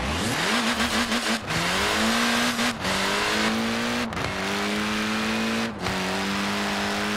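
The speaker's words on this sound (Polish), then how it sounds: "Ten samochód nigdy takich obrotów nie widział." A car engine in Forza Horizon 4 revving hard at very high RPM, climbing in repeated pulls with brief drops between gear shifts, loud and close, no voices.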